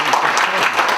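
Audience applause at a church event honouring a songwriter: a short burst of close, dense clapping from the crowd, with a voice mixed in.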